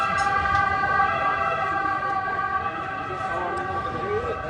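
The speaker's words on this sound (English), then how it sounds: "Ambulance, so hold on." An ambulance siren passing on a city street, a loud sustained wailing tone with layered harmonics, steady and close throughout, over traffic rumble.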